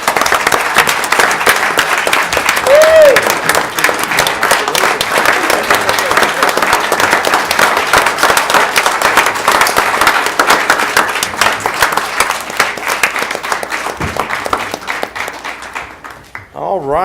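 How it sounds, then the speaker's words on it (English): Loud, sustained applause from an audience at a 2017 mayoral proclamation presentation, a dense wash of clapping lasting about sixteen seconds before thinning out at the end. "Please, round of applause"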